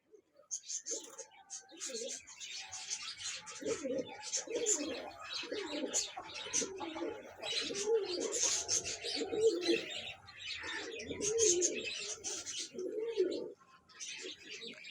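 Racing pigeons at a pigeon club in Chishtian coo steadily in overlapping, throaty phrases, mixed with higher chirps and a busy flock texture, fairly close and continuous throughout.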